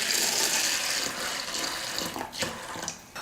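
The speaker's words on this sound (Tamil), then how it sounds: "ஒரு பாத்திரத்தில் இந்த பருப்பு சேர்த்துட்டு தண்ணி ஊற்றி" Water streams into a vessel holding masoor dal set out for soaking, a steady splashing gush that eases and gurgles toward the end, close and fairly soft, with no speech.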